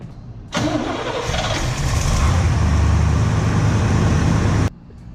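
A 1966 Corvette with a 450-horsepower engine cranks and fires, then settles into a loud, steady, deep idle close by before cutting off abruptly.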